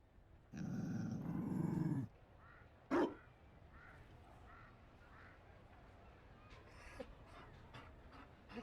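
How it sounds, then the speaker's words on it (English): A Mabari war dog in Dragon Age: Inquisition gives a long rough growl, then a single sharp bark, followed by quieter snuffling and small noises. "You found a dog? They don't breed Mabari in Orlais."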